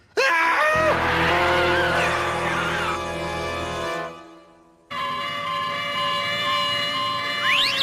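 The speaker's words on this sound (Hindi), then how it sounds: "ये सब एम्बुलेंस कहाँ जा रही हैं?" Loud wailing ambulance sirens in a cartoon rise and fall continuously, cutting out briefly before resuming with a sweeping electronic tone, close and piercing throughout.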